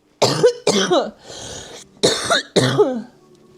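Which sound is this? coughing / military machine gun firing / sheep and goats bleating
coughing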